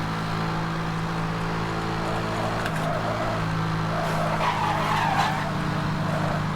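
A racing car skids sideways in Need for Speed: Hot Pursuit (2010), tires squealing over a steady engine drone, with the slide swelling in the second half; no voices.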